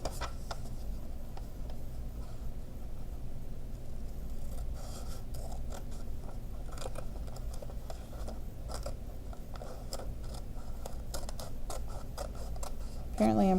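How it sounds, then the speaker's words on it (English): Scissors trim excess paper in close, soft, scratchy snips and rasps that repeat irregularly, and a voice briefly cuts in at the very end. "I'm going to use my scissors and I'm going to trim that down a little bit."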